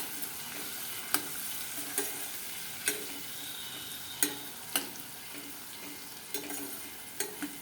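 A spiced mixture sizzles steadily in a pan while a spoon stirs, with sharp scrapes and clicks at irregular intervals. The sound is close and fairly quiet.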